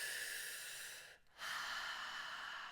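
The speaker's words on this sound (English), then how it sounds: "Feel the air moving in and out of your lungs." Steady, close breathing runs in and out during a guided breathwork session, with a brief pause near the middle before the airy flow resumes, no talking.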